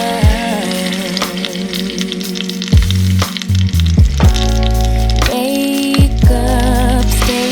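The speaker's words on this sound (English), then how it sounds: "Let's hear that sizzle." Loud, steady sizzling and crackling of salmon frying in hot olive oil, with scattered pops and a few clattering kitchen sounds.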